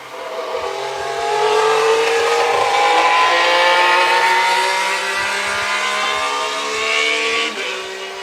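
The 2026 Red Bull RB22 Formula 1 car roars close and loud, its engine note rising and holding in a long continuous howl with no voices over it.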